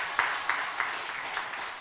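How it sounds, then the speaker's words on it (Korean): Church congregation clapping to welcome newcomers, moderately faint rhythmic group claps with regular beats over a short stretch, no clear speech. "여러분 저 크게 박수로 환영해 주시기 바랍니다."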